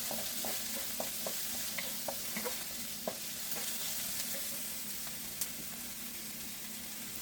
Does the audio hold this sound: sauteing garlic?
yes